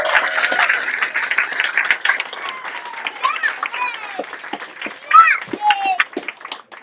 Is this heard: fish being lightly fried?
no